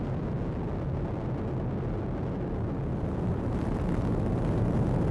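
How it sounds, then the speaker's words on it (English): Atlas V rocket with its RD-180 engine climbing during ascent, a steady, loud broadband roar with heavy low-end rumble that holds continuously throughout, no voices over it. "RD-180 throttling down per flight program"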